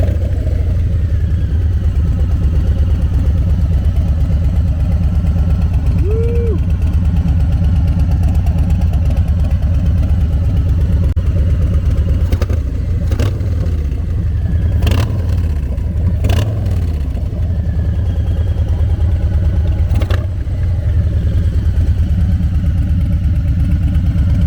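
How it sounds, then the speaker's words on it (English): A 2020 Harley Davidson Softail Low Rider S idles with a deep, loud, steady rumble, and a few brief throttle blips break in during the second half. "we'll start the bike"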